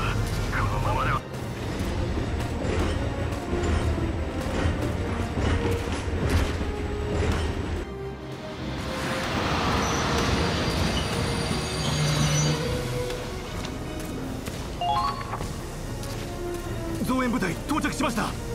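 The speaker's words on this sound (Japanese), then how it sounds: "装甲列車はまだか。" An armored train rolls in during a battle in the Valkyria Chronicles 4 video game, a continuous loud rumble with squealing wheels and rail clatter under dramatic voiced dialogue.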